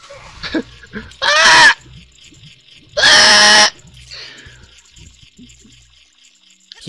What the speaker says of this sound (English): He screams like a girl too.